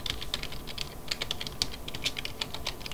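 Rapid, even clicking of a computer keyboard as a game shop command is typed, close and crisp with no voices.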